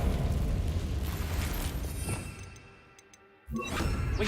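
In the video game Hogwarts Legacy, the Confringo spell bursts as a loud, rumbling explosion that swells, thins into a quieter lull, then a second sharp blast roars back; dense and close, no talk.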